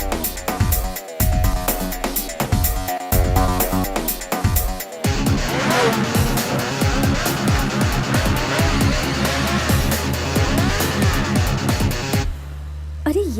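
Motorbikes ridden fast and roughly, tires squealing and skidding over loud revving engines, with dense action-film music and impacts throughout before an abrupt drop near the end.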